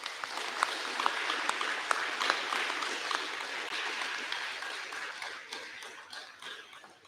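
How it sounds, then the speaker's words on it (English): Audience applause at an eighth grade awards ceremony, a moderately distant, sustained patter of many hands clapping with a few sharp individual claps, tapering off toward the end with no talk. "could we give them another round of applause?"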